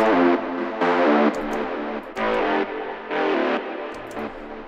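A bright, distorted techno synth lead plays sustained legato notes doubled an octave apart, phrases changing every second or so, with faint high ticks between.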